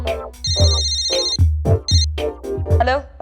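A phone rings for an incoming call, a repeating electronic ringtone with bright beeping tones, heard alongside louder rhythmic music and voice-like sounds.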